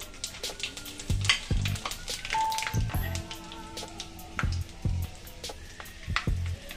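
Whole spices crackle and sizzle steadily in hot mustard oil, with scattered sharp pops and occasional low clunks of a utensil, close by.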